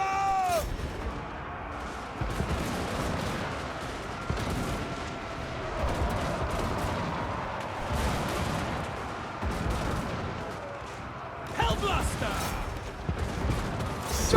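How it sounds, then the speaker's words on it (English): Gun formations trade volleys in a Total War: Warhammer 2 battle, with repeated crackling shots and booms that are fairly faint and distant under a busy battle din, while someone talks over it. "our Chevron formation down here is also consistently firing"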